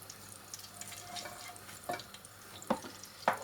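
Oil goes into a pan for carrot zarda sweet rice, giving a quiet frying hiss broken by a few soft clinks and scrapes of utensils against the pan.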